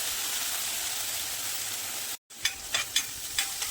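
Barnyard millet (bhagar) roasting in ghee in a pan, a steady close sizzling hiss broken by a brief silence, then stirring scrapes and sharper crackles over the continued frying.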